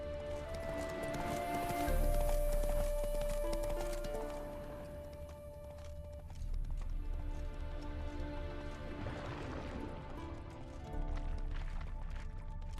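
Hooves of Geralt's horse Roach pound along in The Witcher 3, a fairly quiet galloping clatter running under game music, with a faint voice here and there.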